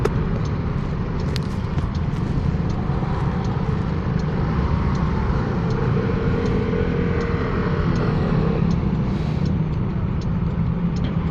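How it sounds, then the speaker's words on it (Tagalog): Dense street traffic in Taiwan, with many motorcycles moving through an intersection, makes a loud, constant engine roar and rumble close by, with scattered faint clicks and no talking. "Dami nakamotor."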